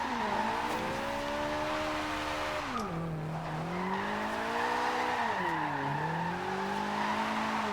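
A Toyota AE86 drifting on stock tires in Forza Horizon 2, the engine wailing and sagging in pitch as the rear steps out, with a constant hiss of tire squeal and skid underneath, loud and uninterrupted.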